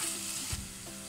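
Dal masala sautéing in oil and ghee, a continuous close hiss with a soft low thump of stirring in the middle.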